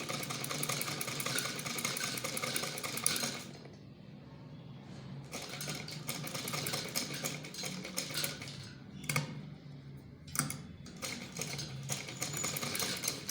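An electric sewing machine runs in steady, fast stitching bursts while sewing the collar of a ladies' kameez, pausing briefly a few times before starting again, close and clear with no talking.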